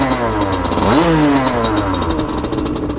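Gilera SMT racing motorbike with a head gasket cut from a drink can, its engine loud and close as it revs up sharply, then holds a high, buzzing, rough pitch with a clattering edge.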